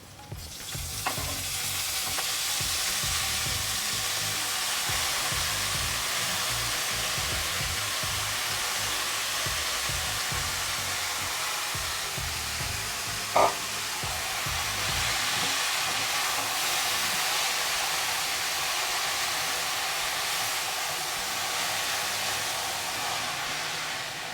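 Fenugreek leaves frying in a pan with crushed garlic give a steady, loud sizzle that runs the whole time, with faint stirring scrapes and one brief clink partway through, no voices.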